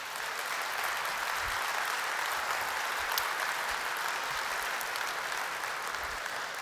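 Dense, sustained applause from a large audience at an event in Las Vegas, a steady even roar of many hands clapping with no voices over it.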